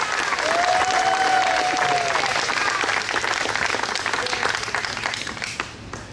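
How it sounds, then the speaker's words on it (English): Audience applause at a municipal swearing-in ceremony, a steady wash of many hands clapping that holds for several seconds and tapers off slightly toward the end. "Can we give a round of applause for Ishan Prasad to lead us in the Star Span"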